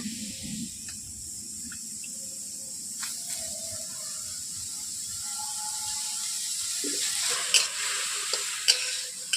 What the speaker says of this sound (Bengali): এরপর আমি গাজরগুলোকে দিয়ে দিচ্ছি কড়াইয়ের মধ্যে